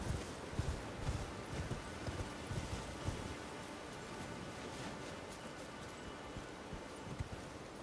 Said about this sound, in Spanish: Señor con caballo.